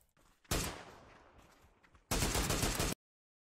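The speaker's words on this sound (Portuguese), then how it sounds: "Spray de SLR intenso, sem errar um tiro." Two loud bursts of rapid SLR rifle fire in PUBG, each about half a second to a second long, separated by quieter scattered shots and noise.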